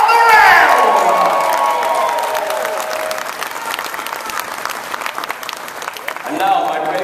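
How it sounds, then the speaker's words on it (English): A crowd of parents in a knight-training arena cheers and applauds for newly dubbed young knights, with loud clapping and shouts at the start that settle into steady applause and rise again near the end. "My lords, my ladies, raise a cheer for our newest knights of the realm!"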